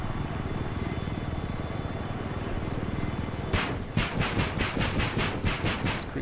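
Battlefield 4 helicopter, a low droning engine hum that gives way to a rapid, loud rotor chop pulsing in quick regular beats, with no talking.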